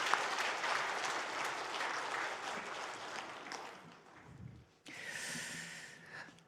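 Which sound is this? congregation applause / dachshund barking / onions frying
congregation applause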